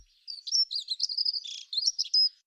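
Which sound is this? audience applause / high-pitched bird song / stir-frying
high-pitched bird song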